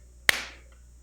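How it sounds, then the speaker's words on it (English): A single sharp hand clap struck for syncing picture and sound, close and crisp, with a short ringing decay into quiet room tone. "you say the word clap and you clap just visually so I can line up the video and audio easier"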